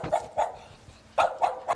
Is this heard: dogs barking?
yes